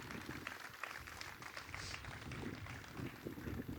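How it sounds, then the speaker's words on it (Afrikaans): A men's gathering audience claps at a morning session, a dense, fairly distant patter of applause running throughout with no clear pauses. "ek dink ons kan 'n beter hande klap as daai gooi"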